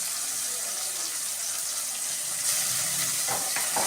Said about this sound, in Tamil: தக்காளி வதங்கிட்டு இப்போ இஞ்சி பூண்டு பேஸ்ட் வந்து நம்ம போடுறோம்.